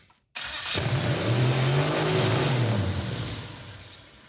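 A turbocharged Mazdarati engine with its throttle stuck open, spinning backwards, roars into a loud, sustained high rev after a brief silence, holding steady before easing slightly toward the end.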